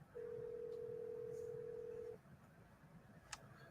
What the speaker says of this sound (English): Hold on, let me try calling him.